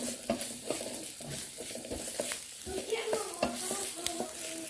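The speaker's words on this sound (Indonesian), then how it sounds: "Aku tumis lagi bawang bombaynya hingga layu." Onions sizzling and frying in a pan for martabak telor, with steady crackle and the repeated scrape of a spatula stirring them, close and fairly loud, no voices.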